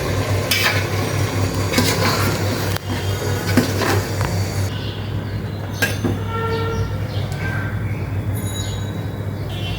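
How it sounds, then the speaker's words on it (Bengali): Hilsa pulao being stirred in a cooking pot, a steady scraping and soft sizzle running throughout at moderate loudness, with a low constant hum underneath. "এখন একটু নেড়ে দিতে হবে, যেহেতু পানিটা অনেকটাই শুকিয়ে এসেছে"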